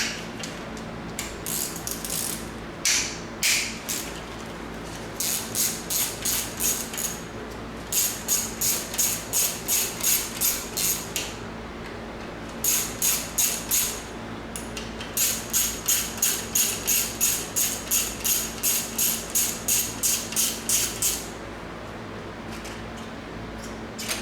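Rapid ratchet wrench clicking while removing a plastic part from a BMW M52 engine, in repeated bursts of even ticks separated by short pauses, close and clear over a steady low background hum.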